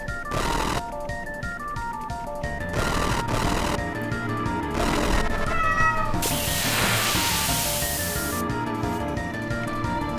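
Repeated loud cat meows play as an alert sound effect over background game music, several distinct calls in a row.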